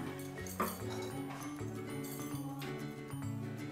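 Metal utensils clink faintly against a pot while bathua kadhi is served, a few light taps and scrapes over a steady background hum.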